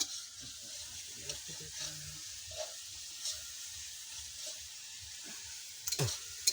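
Garlic fries in hot oil at an outdoor picnic, a close, steady sizzle with intermittent stirring scrapes and a sharper clatter of the utensil near the end.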